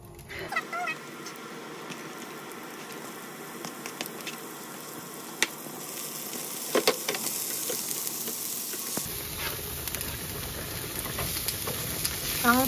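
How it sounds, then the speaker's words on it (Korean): Onions sizzle and crackle in hot oil in a pan, a steady close frying hiss that grows louder and brighter partway through, with light clinks and stirring and no one talking. "양파가 기름에 코팅이 될 정도에서 고기를 넣으라 했어"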